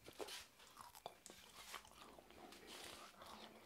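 Someone bites and chews shredded crispy chilli beef close up, with crunchy bites and wet chewing that come in uneven bursts over a quiet background.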